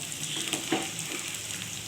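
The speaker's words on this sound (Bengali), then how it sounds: "পেঁয়াজের ব্রেস্তাটা ভাজাই ছিল, মোটামুটি ভাজা হয়ে গেছে" Onions frying in a pan for a spicy egg omelette mix dish, a steady soft sizzle running evenly throughout at moderate level, alone without speech.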